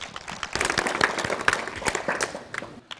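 Audience at a farmers' award ceremony breaks into applause, a dense patter of many hands clapping at close to moderate distance for about three seconds before thinning out.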